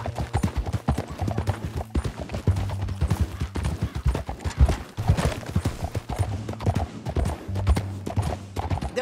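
Steady clip-clop of horse hooves trotting on hard ground in the video game Red Dead Redemption 2, rhythmic and close, with a brief whinny and some faint background noise mixed in.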